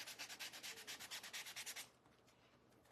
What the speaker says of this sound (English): let me sand across, create some character